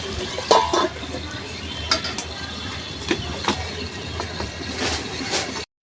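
Mango chicken frying in a pan, a steady sizzle broken by scattered scrapes and clinks of a utensil stirring against the pan.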